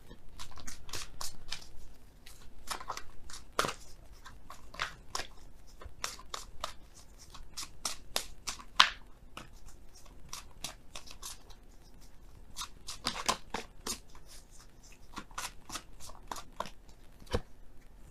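Oracle cards being shuffled by hand during a tarot reading, a run of quick crisp riffling snaps and rustles, close and fairly quiet, with no talking.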